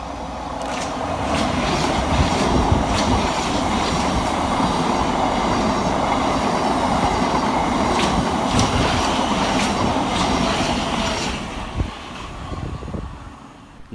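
A Class 700 Thameslink electric train runs through a station, a steady loud rumble with rail clatter sustained for about eleven seconds before fading away, with no voices.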